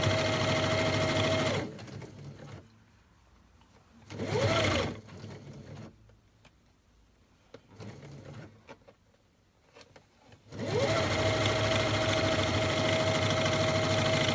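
A sewing machine stitches across the end of a fabric lunch bag in short bursts, loud steady whirring runs broken by quiet pauses where the work is repositioned.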